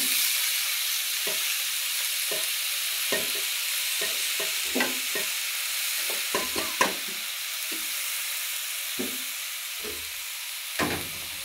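Chopped spinach cooks with prawns in a pan, a soft steady sizzle broken by intermittent scraping and knocking strokes of a spatula stirring the mix, close by and with no voices.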